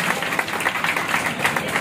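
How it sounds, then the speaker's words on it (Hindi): An audience claps to welcome a guest on stage, a short burst of lively, close applause with individual claps pulsing through. "तालियों से स्वागत करें हमारे गेस्ट का"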